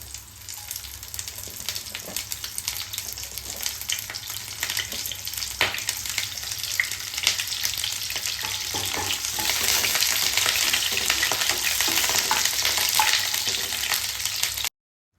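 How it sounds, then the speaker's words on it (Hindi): Cauliflower sizzles steadily in refined oil in a kadhai, the frying crackle building and staying loud and continuous with no talk. "और मैं भी इसमें डालूंगी गोभी, और करूँगी फिर मैं इसमें गोभी फ्राई।"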